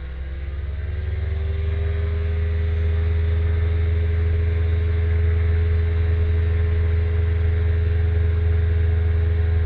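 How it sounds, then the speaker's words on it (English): A small airplane engine runs at full throttle during a soft field takeoff, a loud steady droning roar that swells slightly at the start and then holds constant, heard from inside the cockpit with no talking. "we're going to do a soft field takeoff, so stick all the way back, full throttle"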